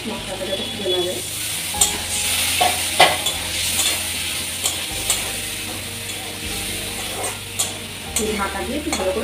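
Ground cumin and coriander masala with a splash of water sautéing in a pan: a continuous close sizzle broken by sharp scraping stirs at irregular intervals, over a low steady hum, with no talking.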